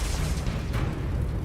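A Confringo spell blast in the Hogwarts Legacy video game, loud and dense, with a broad rumbling burst and a brighter flare midway, sustained across a short moment with no talk.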